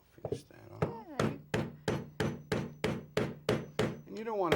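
A quick, regular series of about a dozen hammer strikes on wood, close and loud, with brief voices at the start and end.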